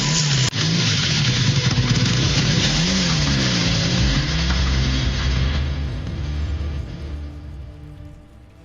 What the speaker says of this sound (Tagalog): Padali mo na yung motor!